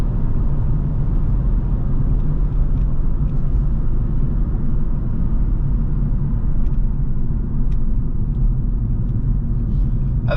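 Steady, loud car engine and tyre rumble while driving at night, a continuous low drone with no breaks and no talking.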